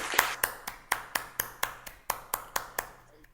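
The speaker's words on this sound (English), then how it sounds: "Can we accept this new committee with a round of applause?" A handful of meeting attendees at a hybrid Toastmasters meeting clap to accept a new committee, about a dozen distinct, evenly spaced claps close to the microphone, sparse and faint rather than a full crowd.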